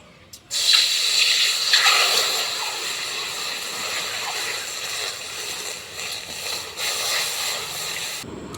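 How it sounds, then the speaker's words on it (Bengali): Water splashes and hisses steadily into a wok to wash lentils for several seconds, a continuous close-up pour with slight swirling variations, no voices. "কড়াইতে জল দিয়ে দিব আর ডালগুলোকে ভালোভাবে ধুয়ে নেব।"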